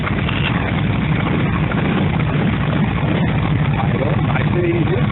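A 1948 Harley-Davidson EL Panhead motorcycle engine runs with a loud, steady, continuous low rumble for the whole stretch, close by and with no talk over it.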